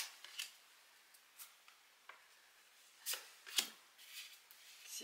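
Tarot cards shuffled and snapped during a French-language horoscope reading for Libra, giving soft papery riffles and a few sharp flicks scattered across the quiet, with no talking.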